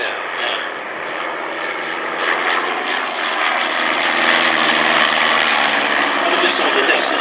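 Heritage aircraft flying in formation over an airshow roar steadily overhead, a continuous broad engine drone that swells slightly, with people chatting nearby throughout.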